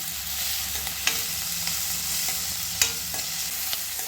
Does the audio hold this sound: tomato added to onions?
yes